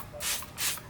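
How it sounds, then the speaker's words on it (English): Two short hissing bursts of Sonax wheel cleaner sprayed onto the wheel of a Toyota Camry, each a quick close spritz about a third of a second apart. "We're gonna spray it"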